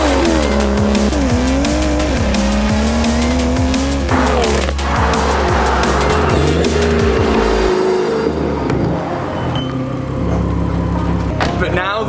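A BMW M140i with a hybrid turbo making over 533 bhp drives hard, its engine droning and rising through gears with loud, continuous roar and some tire noise, close up, easing off toward the end.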